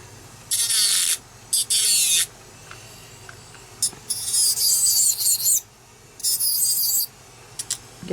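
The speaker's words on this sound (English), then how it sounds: "Roughen it up. You can use a buffing block." A buffing block scrubs the surface of gel nails in short, bright, raspy bursts, four or five strokes separated by brief pauses, close and fairly loud with no voices.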